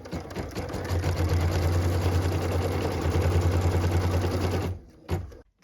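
A sewing machine stitches the tack-down line on a quilt piece, running in a steady, close whir for nearly five seconds before stopping abruptly.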